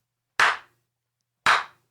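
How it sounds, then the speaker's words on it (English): Two loud, sharp hand claps about a second apart, each crisp and isolated against silence. "I have this clap."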